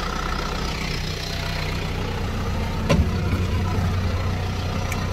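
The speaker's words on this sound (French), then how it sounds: "on va couper le tracteur" A tractor engine idles from inside the cab during an autumn field visit in Champagne, a loud, steady low rumble. A single sharp click lands partway through.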